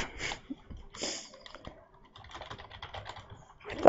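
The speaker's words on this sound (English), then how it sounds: "Feel like my keyboard makes like the loudest clicking sounds." A loud computer keyboard clicks during a Hypixel Skywars Minecraft match, with rapid clustered keystrokes and short pauses, close to the microphone, with no talk over them.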